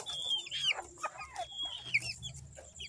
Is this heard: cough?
no